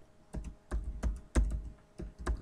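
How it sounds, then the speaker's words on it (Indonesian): Slow, deliberate keystrokes on a computer keyboard, five or six distinct taps spaced roughly half a second apart, close and fairly quiet with no voices over them. "Saya ketik sendiri."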